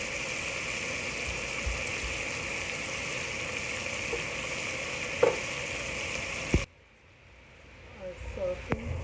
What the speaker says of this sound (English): our sausage and our bacon are nice and incorporated well and crispy